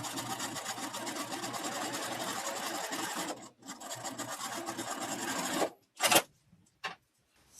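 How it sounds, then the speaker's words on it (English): A sewing machine stitching two pieces of quilt fabric along a line, a close, fast continuous whirr for several seconds that stops abruptly, followed by a few short mechanical bursts. "then we're going to sew directly along this line here."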